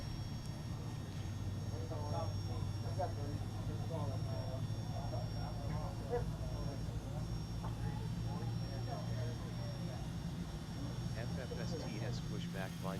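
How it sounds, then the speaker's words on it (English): Jet airliner engine spooling up in the X-Plane 11 flight simulator during pushback, a steady low hum and rising whine running throughout while someone talks over it. "Oh, and here comes the engine."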